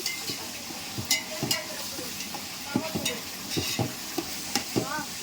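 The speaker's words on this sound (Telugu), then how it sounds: "అల్లం వెల్లుల్లి కూడా బాగా వేగాలి" Ginger garlic paste sizzling in a pan while a spoon stirs it, with soft crackling frying and repeated scraping strokes against the pan, close and fairly quiet.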